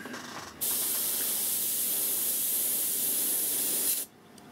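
A steady, continuous hiss of an airbrush spraying paint for about three and a half seconds, close and even, starting and stopping abruptly.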